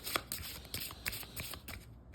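A deck of playing cards being shuffled by hand at close range: a run of quick riffling bursts and soft flicks, with a brief pause near the end.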